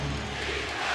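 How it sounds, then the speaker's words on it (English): A basketball arena crowd roars during the 2003 NBA Finals game between the San Antonio Spurs and New Jersey Nets, a brief, loud, dense swell of cheering from a large audience. "That awakens the crowd."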